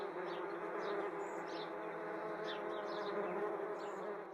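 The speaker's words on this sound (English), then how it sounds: "the sound of wasp wings" Wasp wings buzz in a steady, continuous drone, fairly close and unbroken, with no voices present.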